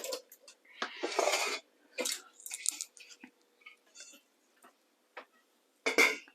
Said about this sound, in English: I'm going to pop the lid on.